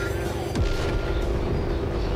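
A burst of fire erupts from a character's mouth in the anime Enen no Shouboutai (Fire Force), a loud, sudden boom followed by a dense, roaring rumble that lingers under the scene's sound.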